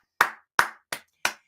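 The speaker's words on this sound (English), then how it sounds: "can we clap to that?" Four crisp hand claps ring out alone in an even rhythm, close and clean with short decays and silence between them.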